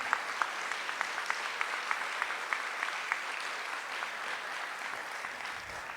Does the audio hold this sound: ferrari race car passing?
no